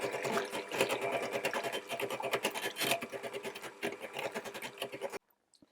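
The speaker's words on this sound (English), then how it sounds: "So I'm just going to whisk that until it's fairly thick." Double cream is whisked in an Ankarsrum mixer, producing a loud, steady rhythmic whirring and rattling drone that runs continuously for about five seconds, then stops abruptly into near silence.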